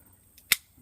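A single handgun shot fired at an indoor firing range, one sharp loud crack standing alone with a quick decay.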